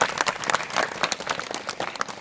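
Students at a government inter college quiz competition clap in a short, brisk burst, individual claps distinct and close, uneven in rhythm, fairly quiet overall.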